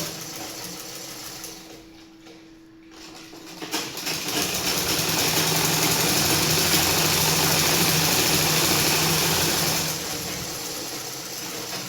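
Sewing machine stitching two layers of fabric together about a quarter inch below an existing seam, a steady continuous mechanical whir that runs for most of the stretch after a short quieter pause, with no talking.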